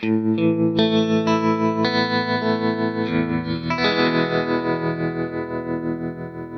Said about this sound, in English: a tremolo effect is a quite traditional sort of sound